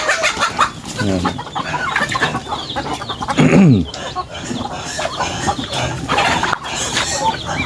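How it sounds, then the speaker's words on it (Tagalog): Free-range chickens, just let out of their cages, cluck and squawk loudly and close by in a busy, overlapping stream, with a brief spoken word among them. "Kaya natin pinawalan mga kabrad itong ating mga nakakulong na manok"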